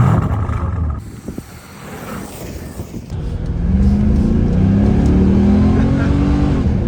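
A Holden VX SS Commodore with a 5-litre engine idles, then builds into a rising, full-throated acceleration, loud and close from inside the car, with some speech early on.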